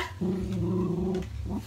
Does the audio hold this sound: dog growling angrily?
yes